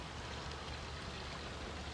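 Small decorative waterfalls splash steadily at a house in Central Florida, a close, even rush of falling water with no breaks or voices.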